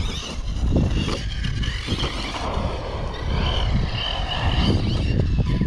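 Hobao Skater RC car with a nitro engine buzzes and whines outdoors, rising and falling as it speeds around, mixed with rough ground noise and varying distance.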